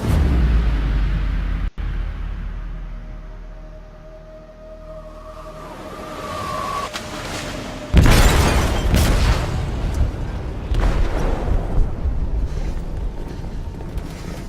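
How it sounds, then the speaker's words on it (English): A heavy explosive detonates in a ship's hold in Detroit: Become Human, a sharp booming blast followed by a long rumbling roar and debris-like crackle, loud and alone with no talk. "They detonated an explosive in the hold."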